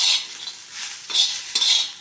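Roasted peanuts are stirred in a hot pan for a badnekayi yanagayi palya, with close scraping strokes repeating in three or four bursts and a faint sizzle beneath.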